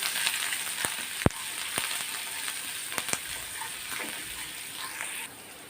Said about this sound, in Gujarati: મેં એક ઇંચ આદુનું ટુકડાનું ખમણ લીધેલું છે તે આપણે એડ કરીશું અને સરસ રીતે આપણે સાતડી દઈશું